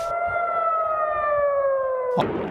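An air raid siren in Israel wails in a long, steady, gradually falling tone, loud and alone, cut off by a sharp burst at the end.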